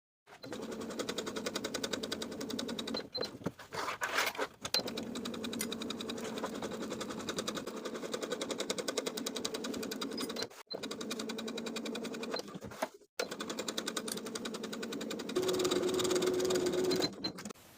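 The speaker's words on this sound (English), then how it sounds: "Sew all the way around the neckline facing with a 1/4 inch seam allowance." Sewing machine stitching around the neckline facing of a beach cover-up with a quarter-inch seam allowance hums in long continuous runs of fast whirring, close and soft, broken by a few short pauses, with no talk.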